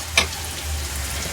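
Curry leaves and green chillies tempering in hot oil, a soft steady sizzle with one sharp crackle at the start and a low hum underneath.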